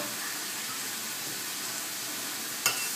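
Chicken and pineapple sizzling steadily in a hot pan, a soft continuous frying hiss close by, with one brief clatter of stirring near the end.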